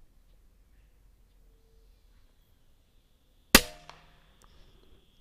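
A single sharp, loud crack of a PCP air rifle fired outdoors while hunting doves, standing out against quiet surroundings, with a faint ringing tail afterward.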